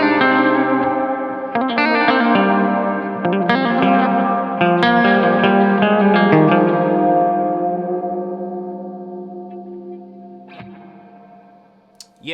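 An electric guitar runs through the spring reverb of a Strymon Big Sky pedal with the decay raised, strummed chords ringing out and slowly washing away into a long, shimmering tail before a few faint final notes.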